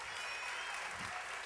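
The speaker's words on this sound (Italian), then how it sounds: "Un applauso per favore." Steady applause from a crowd at an ArcoRida 2014 show, an even wash of clapping held at a fairly soft level for the whole moment, with no voice rising above it.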